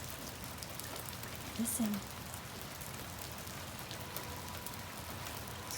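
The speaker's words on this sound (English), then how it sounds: "Oh, there's puddles and raindrops." Light spring rain patters steadily onto a wet surface and puddles, a soft continuous hiss of raindrops outdoors, with a brief quiet voice in the middle.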